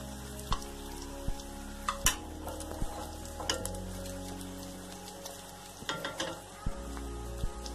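An egg fries in a pan that is gently shaken, a continuous bright sizzle with scattered pops and crackles and a few soft knocks of the pan, close and without talk.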